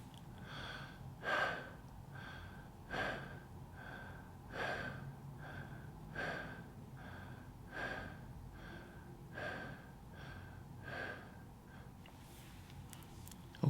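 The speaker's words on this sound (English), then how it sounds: "the exhale connected without pause, but adjust your pace and volume to what allows you to energize without overwhelming your system" Fast connected breathing in a superventilation demonstration: about nine sharp, rhythmic inhale-exhale cycles roughly every one and a half seconds, close and clear with no talking.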